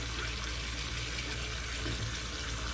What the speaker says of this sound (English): Run the water on there.